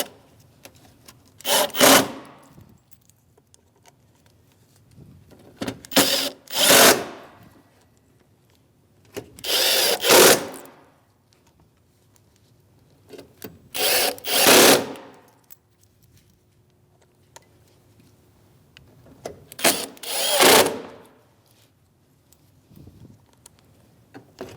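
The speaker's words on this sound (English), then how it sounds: "Now we can put our mounting screws in. This is for a T15 Torx bit." Power drill driving T15 Torx mounting screws into the bumper cover of a 2016-2025 Chevrolet Malibu: five separate bursts of close whirring with gaps of quiet between them, no talking.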